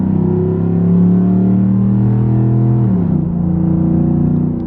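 A Ford F150 fitted with a Roush cold air intake accelerates at half throttle, its engine note loud and close, rising steadily and then dipping briefly as it shifts before climbing again.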